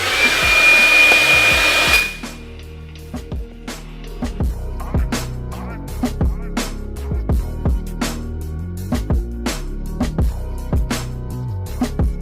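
A hair dryer blow-dries hair with a loud, steady whooshing roar and a high whine for about two seconds, then cuts off. Rhythmic music follows for the rest of the clip.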